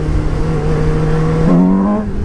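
A 2017 Suzuki GSX-S750 motorcycle engine revs up close and loud, its pitch climbing steadily and then easing back as the throttle is released.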